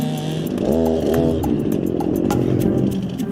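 A chainsaw engine drones steadily and loudly, revving up and down as it cuts, with a harsh buzzing tone throughout.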